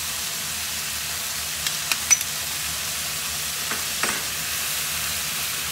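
Quinoa and vegetables sizzle in a pan alongside lightly seared sea trout, a continuous close frying hiss broken by a few quick stirring scrapes and taps, no talking.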